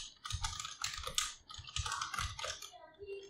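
Quick, light keystrokes clatter in bursts on a computer keyboard as code is written in Unity, close and moderately quiet with brief pauses.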